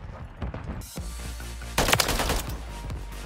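Rapid bursts of gunfire crack repeatedly, with a louder volley partway through, in the video game Call of Duty: Modern Warfare 3 (2023).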